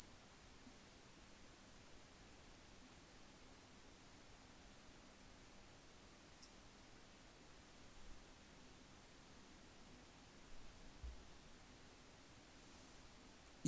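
A thin, steady sine test tone sweeps slowly upward in the very high range near 15,000 Hz, faint and continuous over near silence.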